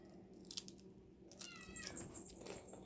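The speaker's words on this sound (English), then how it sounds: "there's a cat meowing" A cat meows indoors, several short, fairly faint cries spread across the moment, with light rustling around them and no one talking.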